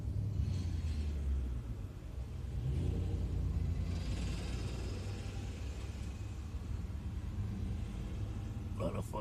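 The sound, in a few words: passing road traffic heard from a parked car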